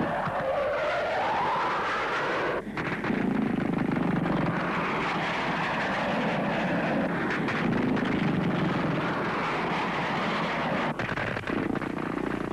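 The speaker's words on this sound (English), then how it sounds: "Under air cover of American-made Skyhawks like these" A roaring Skyhawk jet engine sweeps past, loud and continuous, with the rumble swelling and fading as the aircraft passes overhead.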